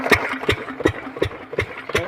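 A water pump engine runs in a tobacco field being irrigated, thumping in a steady rhythm of about three beats per second, close and fairly loud with no voices.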